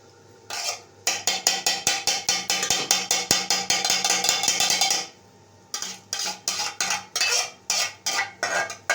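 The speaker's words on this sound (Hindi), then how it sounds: "ये 2-3 बर्तन है, बस ये धो के मैं रख लूँगी" A few cooking pots and dishes crusted with stuck rice are scrubbed by hand in a home kitchen. The scraping strokes are close and rhythmic, with a pause midway before the scrubbing resumes.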